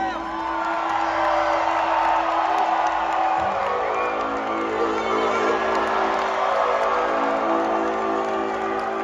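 At a concert in Cedar Rapids, Iowa, a large crowd screams and cheers in a sustained roar, loud and continuous, with sustained tones from the stage sound running beneath it.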